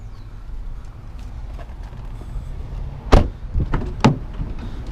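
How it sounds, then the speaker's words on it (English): The power sliding door on a 2011 Dodge Grand Caravan R/T runs under a steady idle-like hum. Several sharp mechanical clunks and thuds come near the end as the door latches, close and fairly loud. "Power doors."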